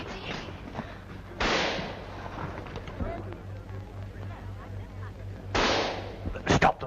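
Gunfire in a 1934 film battle scene: two sharp, loud reports stand out against a low background hum, followed near the end by a quick cluster of shots, with voices speaking faintly in between.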